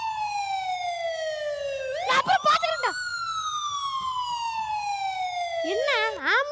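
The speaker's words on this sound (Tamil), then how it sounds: "என்ன ஆம்புலன்ஸ் சவுண்டுக்கு இப்படி பயந்து வர்றா?" An ambulance siren wails loud and close, its steady tone sliding slowly downward, briefly broken by sharp clattering bursts and scraping sounds.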